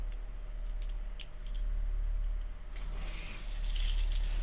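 Water runs from a faucet, a steady hiss of flow that grows brighter and stronger partway through as the stream is adjusted, close and alone without talk.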